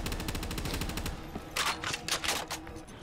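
Rapid, steady machine-gun turret fire in a zombies video game, a loud close stream of rounds that breaks into choppier bursts and sharp cracks toward the end, with no voices.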